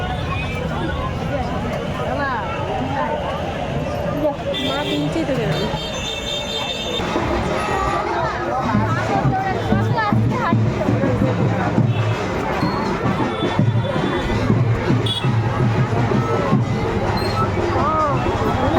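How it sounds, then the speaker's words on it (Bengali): Dense, continuous crowd babble from a packed street gathering on a rainy day, mixed with steady road traffic, engine hum and occasional horn-like tones, loud and unbroken throughout. "তোমরা তো বুঝতেই পারছো কত শব্দ, লোকজন কথাবার্তা বলছে, রাস্তা গাড়ি ঘোড়া শব্দে মারা যাচ্ছে।"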